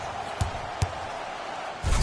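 A basketball slam dunk in the NBA Live video game: two sharp impacts a short way apart, then a heavier thud near the end, all over a steady crowd-like bed of noise.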